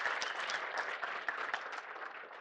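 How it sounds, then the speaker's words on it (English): A conference keynote audience at a Go programming community event claps in a dense, steady burst of applause lasting a couple of seconds, fading slightly toward the end. "Let's give you a round of applause just for participating."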